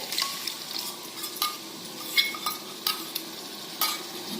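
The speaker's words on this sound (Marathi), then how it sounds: "हे मिश्रणातून तेल बाहेर पडूपर्यंत हे परतून घ्यायचं" An onion, tomato and yogurt masala mixture sizzles softly in a pan as a spoon stirs it with scattered scraping taps and clinks, close and moderately quiet, with no talk.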